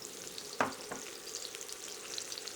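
Sweet onions frying in a pan for sweet and sour pork, a quiet steady sizzle with one brief clack of a utensil near the start.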